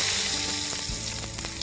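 Tadka spices sizzle and crackle in hot oil, a dense, steady frying hiss close up with no pauses.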